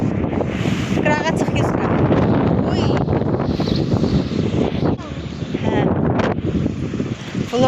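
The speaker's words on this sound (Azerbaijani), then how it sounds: "Nə qəşəng küləkli." Strong wind buffets the microphone outdoors, a loud gusty roar with heavy low rumble running throughout, while a person speaks briefly over it.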